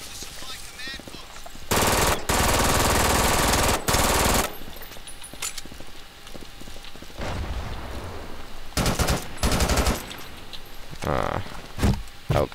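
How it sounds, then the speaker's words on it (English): Gunfire in the video game Brink, played on PC, comes as loud bursts of automatic fire aimed at the player, several long sustained volleys alternating with shorter clusters of shots and quieter gaps. "Oh god, getting shot."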